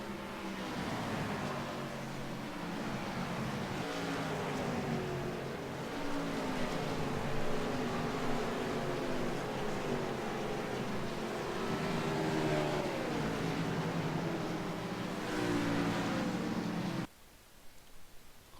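Race car engines in a video game stock car race, a steady loud droning blend of motors holding for most of the stretch before cutting off abruptly near the end.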